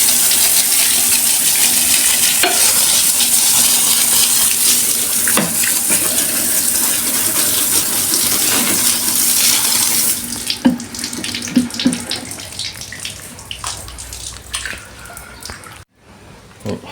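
Water spray blasting a dirty outdoor air conditioner condenser coil, a loud steady hiss of rushing, splattering water that runs continuously, then turns patchier and more broken with dripping and splashes near the end.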